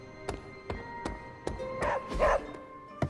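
A pet dog in Marvel's Midnight Suns lets out a string of short, close yips and barks at a steady pace, ending in a slightly louder, more drawn-out bark, with no one talking over it.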